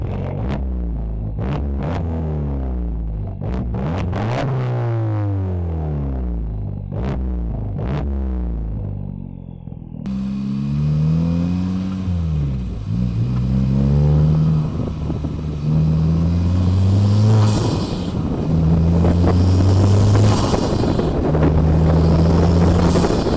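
A 10th-generation Honda Civic Type R's exhaust revs repeatedly, engine pitch rising and falling sharply, then settles into a loud droning cruise with wind noise as it drives.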